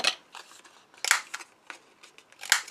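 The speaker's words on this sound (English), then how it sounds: "that's the X cut corner punch and that's size L" An X-Cut corner punch, size L, clips and rounds the corners of paper, making a series of close, crisp snips and clicks with short pauses between them.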